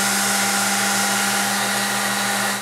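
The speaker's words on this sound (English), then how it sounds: "I'm grinding the scale off on my belt grinder." A belt grinder whines loudly and steadily as it grinds scale off knife steel, a dense, unbroken abrasive roar with a constant motor hum running close up throughout, with no talk over it.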